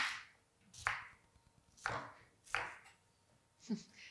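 Knife chopping through onion on a cutting board in a kitchen, heard as four or five separate, fairly loud chops at uneven intervals with quiet pauses between them.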